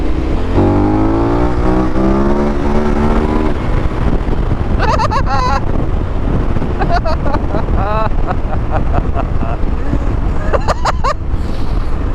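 A 2021 KTM 1290 Super Adventure S motorcycle ridden on a road in Scotland. The engine climbs in pitch as it accelerates under heavy wind buffeting, then keeps humming while short vocal exclamations cut in over the rushing wind.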